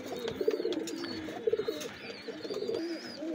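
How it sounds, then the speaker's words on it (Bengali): Golden pigeon chicks coo softly inside a cage, several low rolling coos in uneven bursts with faint chirps in a quiet room. "আমি কবুতর দুটো আপনাদের ছেড়ে খাঁচায় দেখাচ্ছি"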